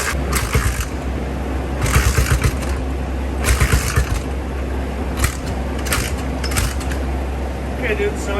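A 1985 Honda ATC350X three-wheeler with a dirty carburetor idles roughly and steadily nearby, sputtering through several uneven throttle bursts while people talk over it.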